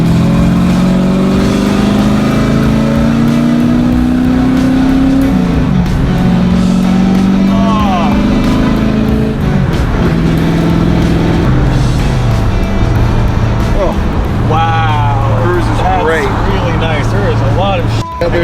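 Steady low drone from the V8-swapped 1980s Ford wagon cruising on the interstate, a constant engine hum filling the cabin beneath ongoing conversation between occupants.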